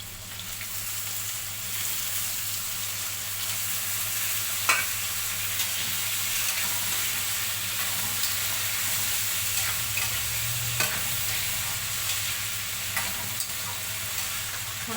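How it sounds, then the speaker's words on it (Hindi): Steady sizzling of food frying in hot oil, a soft continuous crackle with occasional small pops and a low hum beneath, no talking. "थोड़ा सा फ्राई हो जाएगा"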